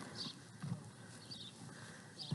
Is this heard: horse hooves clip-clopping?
yes